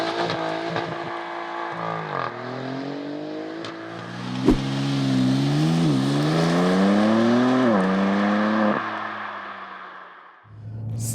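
A BMW M3 Competition xDrive launches under launch control, its engine roaring loud and close as revs climb through several rising sweeps with brief dips at each gear change, then fading as the car pulls away.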